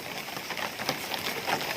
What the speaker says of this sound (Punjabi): ਬਰਸਾਤ ਦਾ ਮੌਸਮ ਹੈ ਕਾਫੀ ਬਰਸਾਤ ਪੈ ਰਹੀ ਹੈ